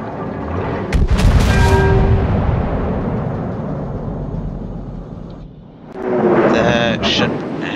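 Main battery guns of a battleship in World of Warships, battling a USS Montana, boom in two heavy salvos a few seconds apart, each followed by a long rumbling decay, with someone talking over the scene.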